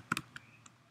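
Typing on a computer keyboard: a few quick, close keystrokes with light clicking, spaced irregularly across one second in a quiet room.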